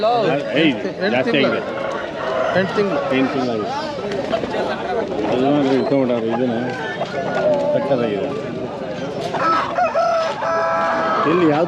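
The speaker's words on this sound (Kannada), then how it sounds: "ಫೈಟರ್ ಕೋಳಿ ಫೈಟರ್ ಕೋಳಿ ಇದೆ ಎಲ್ಲ ಫೈಟರ್ ಕೋಳಿ" Several fighter roosters crow and cluck loudly and continuously at a poultry market in Hindiganala, Hoskote, rural Bangalore, with people talking over the birds throughout.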